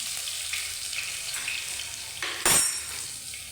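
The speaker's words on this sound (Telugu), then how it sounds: "తర్వాత తెల్లగడ్డల పేస్ట్ వేసుకోవాలి" Garlic paste frying in hot oil with tempering seeds and curry leaves for sambar, a soft steady sizzle with a brief louder spatter burst midway, close and with no talk.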